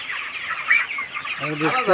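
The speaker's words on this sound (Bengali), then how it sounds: "খাসার ভিতরে ব্রয়লার মুরগি পালন নতুন পদ্ধতি" Caged broiler chickens cluck close by in a short series of bright, choppy calls, with a few overlapping voices toward the end and no human speech.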